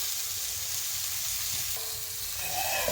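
Spices and cut potatoes sautéed in oil in a pan for a tengra fish curry, a steady dense sizzle close up with faint stirring and no speech.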